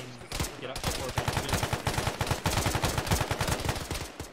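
Rapid bursts of automatic gunfire in the Arma military shooter during a ShackTac session, a dense run of sharp, closely spaced shots fired continuously and loudly with almost no pause.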